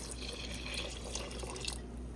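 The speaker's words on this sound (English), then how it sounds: "I'm gonna go in with about another cup of water" A cup of water poured into a pot of Jamaican rice and peas: a soft, steady trickle of liquid, quiet and close, running about two seconds and then stopping.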